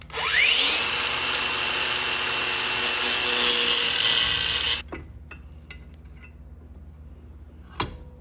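A Harbor Freight power tool cuts off a nut held in a bench vise, grinding loudly and steadily for about five seconds before stopping; afterwards come faint clinks and handling noises, with one sharp knock near the end.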